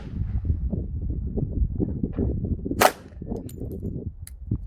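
A shotgun fires a single Multiple Impact Projectile round indoors at a range, one sharp loud report with a short ringing tail amid background noise.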